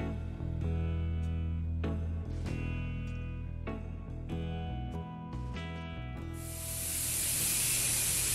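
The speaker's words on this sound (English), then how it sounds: "once you hear that hissing sound, it's coming out of the little spout there on the top" A pressure canner used for canning peaches hisses steam from its spout, as a loud, steady hiss that rises late in the clip after a stretch of music.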